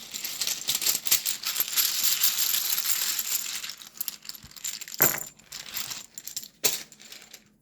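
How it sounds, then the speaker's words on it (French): Small dice tumble and rattle on a surface during a French tarot reading, a dense clattering roll followed by a few scattered, sharper clicks as they settle. "on va aussi tirer les dés"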